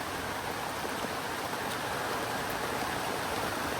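Steady rain falling in a forest where durian, chocolate and coconut trees grow, a dense, even hiss without pause that fills the background, with no voices.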